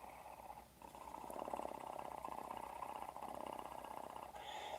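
A voice imitates a cat's purr, a steady low rumbling vibration held for several seconds after a brief pause at the start.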